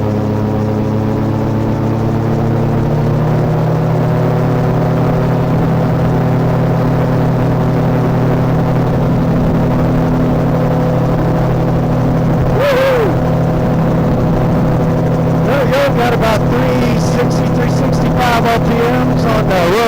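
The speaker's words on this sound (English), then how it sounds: "All right, so let that rotor spool up." Gyroplane engine droning steadily with strong low harmonic bands while the rotor spools up for takeoff, loud and close, with a pilot talking over it and brief bursts of wind noise near the end.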